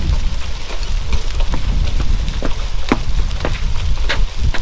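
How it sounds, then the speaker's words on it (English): Hail striking surfaces outdoors during a sudden storm, a dense steady patter with scattered sharper individual impacts standing out close by, continuous throughout with no talk. "I can't believe it's hailing."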